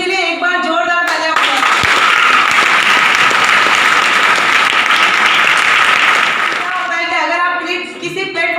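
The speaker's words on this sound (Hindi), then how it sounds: "उनके लिए एक बार जोरदार तालियां।" Loud applause from a crowd at a Hindi-speaking gathering swells for several seconds, clapping densely before fading, with a voice speaking at the start and again at the end.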